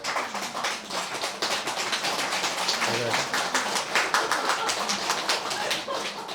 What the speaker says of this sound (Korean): 왜 박수가 나오지?